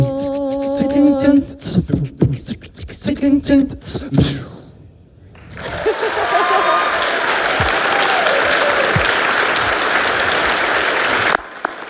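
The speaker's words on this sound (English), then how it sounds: "Let's give them a real round of applause" An audience at a regional educators awards and scholarship ceremony breaks into sustained applause after someone speaks, a dense, even wall of clapping that carries on steadily for several seconds.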